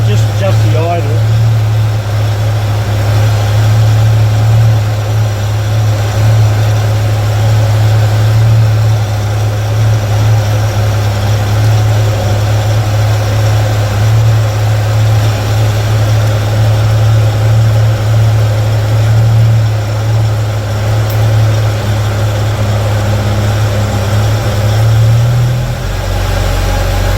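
A Jaguar XJ6 Series 1 engine idles steadily and loudly for a long stretch, a deep even rumble with a slight change in tone near the end while the idle is adjusted.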